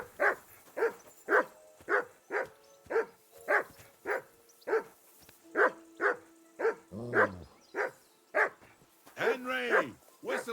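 In Kingdom Come: Deliverance II, a dog keeps barking in a steady, repeated run, with a drawn-out whine and a howl-like bark near the end, clear against a quiet backdrop.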